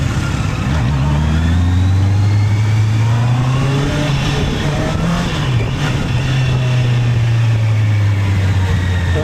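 A Honda CBR 650R sport bike with an e-clutch pulls hard on the road, its engine note climbing and dropping as it shifts up through the gears from first to sixth, loud and steady throughout with heavy wind noise.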